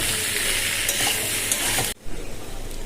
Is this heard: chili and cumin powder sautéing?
yes